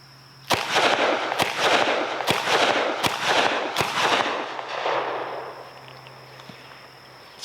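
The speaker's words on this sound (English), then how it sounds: "these are 125 grain jacketed soft points, and these are 357 Magnums, and they do kick in this little gun" A Taurus 605 revolver fires .357 Magnum 125 grain jacketed soft point rounds: five sharp, loud shots spaced roughly a second apart, each followed by a booming echo that rings out and fades after the last.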